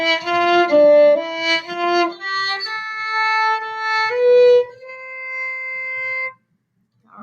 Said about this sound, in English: That's a C, and it's going to sound like this.